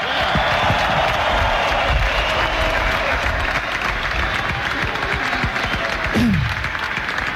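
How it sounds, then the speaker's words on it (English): Sustained applause and crowd noise fill an arena after a televised boxing bout, a dense, steady roar of clapping with cheering mixed in, holding at an even loud level throughout. "Let's give both fighters a round of applause."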